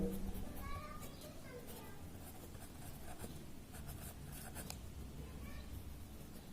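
Pen or chalk scratches faintly as a math teacher writes out a decimal expansion during a class 9 lesson, with soft strokes running steadily under the speaker's voice.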